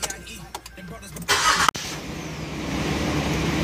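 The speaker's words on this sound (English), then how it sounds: "But then when you go to start the vehicle," A car engine cranks and catches after the key is turned from accessory to start, a short burst of cranking followed by a steady running rumble. Brief background noise comes before it.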